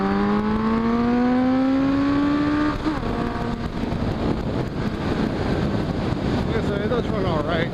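A motorcycle engine running and revving loudly close by, its pitch climbing and then settling into a rough roar with wind buffeting the microphone, and a voice speaking briefly over it.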